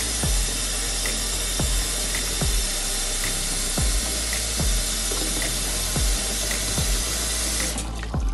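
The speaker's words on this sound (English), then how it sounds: "Cold water, running cold water." Cold water streams steadily from a kitchen tap over freshly boiled eggs in a sink, a loud continuous splashing rush with faint rhythmic clicks throughout.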